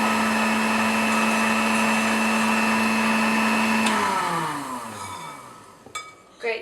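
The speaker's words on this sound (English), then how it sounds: "Do this with a whisk if you like, but it's much easier with the stand mixer" A stand mixer whisks cream at high speed for an ice cream cake: a loud, steady motor whine holds for about four seconds, then spins down and falls quiet, followed by a few light clatters.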